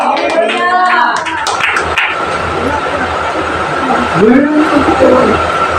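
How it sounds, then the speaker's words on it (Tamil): A church congregation claps hands during a Sunday communion service, a dense sustained burst of crowd clapping that follows a preacher's voice and continues with voices over it. "கைத்தட்டு அல்லேலூயா"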